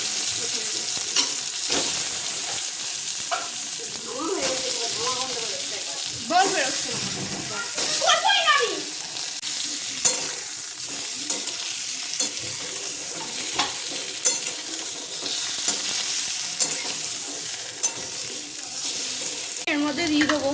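Potatoes fry in hot oil with cumin in a home kitchen pan, a constant loud sizzle broken by scraping stirs from a spoon, while someone speaks quietly now and then.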